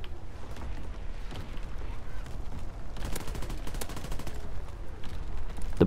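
Rapid bursts of gunfire from a WWII-era weapon in a multiplayer shooter on a canyon map: scattered shots early, then a dense, fast string of cracks in the second half, with other battlefield noise underneath.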